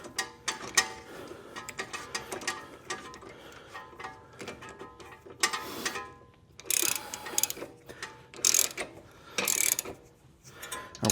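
A wrench ratchets on the front spring bolts of an SN95 or New Edge Ford Mustang, with quick bursts of clicking pawl ticks between quieter pauses, close and moderately loud, with no voices.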